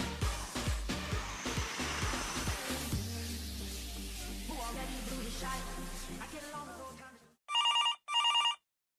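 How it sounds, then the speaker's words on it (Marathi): A telephone rings in two short electronic bursts near the end, after a stretch of loud music and noise that dies away into silence. "अगं फोन वाजतोय बघ"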